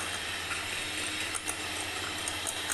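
An electric mixer whisks eggs and granulated sugar for a pan-cooked sponge cake, running as a constant broadband whir with faint clinks of the beaters against the bowl.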